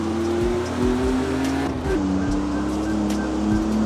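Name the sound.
car driving in the video game CarX Street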